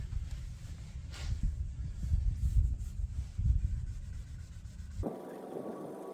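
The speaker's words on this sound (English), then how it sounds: "Once you got that on there, you rubbed it for 4 or 5 minutes." Polish being rubbed by hand onto a car headlight after sanding with 2000 grit paper, a close, low, continuous scrubbing and rubbing that swells and eases, ending with a brief change in tone.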